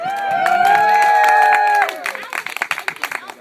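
At a comedy roast, a few seconds of tonal sound give way to a live audience clapping, the claps sharp and uneven as the applause picks up.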